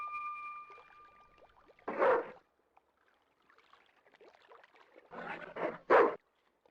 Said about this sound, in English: The guard dog was staring at me with a hungry look in his eyes.